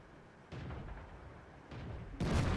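An SU-100 tank gun fires in World of Tanks, three dull booming blasts spaced roughly a second apart, the last one loudest and nearest.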